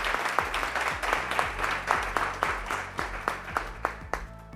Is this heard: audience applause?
yes